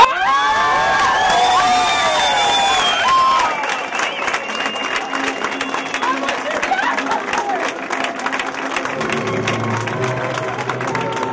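A crowd at a Halloween running race erupts in cheers, whoops and shouts after a marriage proposal, then settles into steady clapping that continues loudly, with voices mixed in toward the end.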